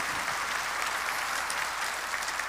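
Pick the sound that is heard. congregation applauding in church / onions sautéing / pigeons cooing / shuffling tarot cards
congregation applauding in church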